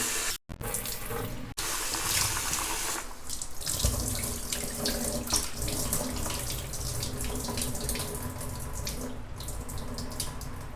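Chicken is rinsed under a running kitchen tap, a loud, continuous splashing gush close by with a couple of brief breaks near the start, and no voices.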